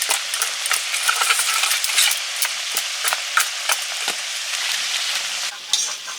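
Hilsa fish fries in hot oil with a steady, close sizzle, punctuated by irregular clinks and scrapes of a utensil stirring in the pan.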